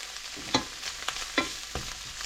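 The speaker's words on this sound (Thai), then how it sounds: "เราจะผัดเห็ดก่อนนะคะ เพราะว่า พริกแกงของเรามันสุกแล้วค่ะเราจะผัด เห็ดให้หอมก่อนเนาะ" Boiled mushrooms stir-fried in a pan, with a soft sizzle and a few scraping spatula strokes, close and fairly quiet with no talk.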